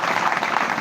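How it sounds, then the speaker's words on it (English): Audience applause at a live-streamed event honoring an Ekiti State official, a steady dense wash of clapping that holds evenly throughout the brief moment. "Please, another beautiful round of applause for you."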